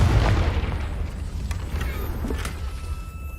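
A Confringo fire spell goes off in a video game, a loud rumbling blast that holds broad and heavy through the whole moment with a few sharper crackles on top.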